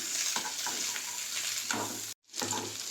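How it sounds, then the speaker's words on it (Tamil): Okra pieces tossed into hot oil in a pan, giving a steady, close hiss of frying with light stirring clatter, broken by a brief silence before the sizzle resumes. "இப்போ இதை ஃபஸ்ட்டு வெண்டைக்காயை போட்டு நல்லா பொரிச்சுக்கலாம்"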